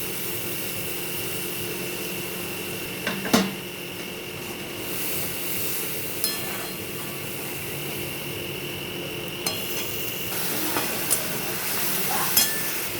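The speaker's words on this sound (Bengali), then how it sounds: "এখানে একটু জল দিয়ে দিচ্ছি মশলাটা কষানোর জন্য" Spice paste with a splash of water cooking down in a pan for a prawn-paste lentil curry, a low continuous sizzle with occasional clicks and scrapes of stirring, close by and no talking.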